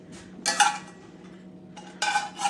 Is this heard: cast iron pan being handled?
yes